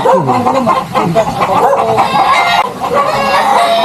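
Fighting roosters crow and cluck loudly and close by, several birds overlapping in a busy, continuous farmyard chorus with no pauses.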